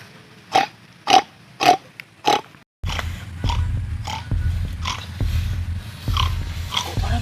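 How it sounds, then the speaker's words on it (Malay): Pigs grunt and squeal in a few sharp, separate bursts, then keep snorting and grunting in a busier run over a low rumbling background, close by. "Kok para babi?"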